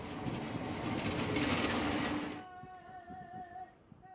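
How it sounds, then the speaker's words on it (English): Te Huia commuter train running between Hamilton and Auckland, a loud broadband rumble of rolling stock passing close by that cuts off abruptly, leaving a quieter tonal hum with faint clicks of wheels on rail. "the first commuter train to run from Hamilton to Auckland"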